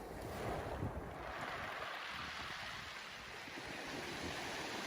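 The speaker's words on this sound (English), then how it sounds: "And then another wave comes in and goes out." Ocean waves wash onto a beach in a continuous, full surf roar with soft rolling swells, steady and close, accompanied by wind noise and no voices.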